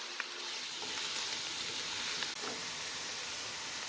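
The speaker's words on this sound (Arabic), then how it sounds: "عم قلي الكزبرة والثوم" Fresh coriander and garlic frying in ghee in a pan, a continuous close sizzle with faint crackles and an occasional light stir, no voices.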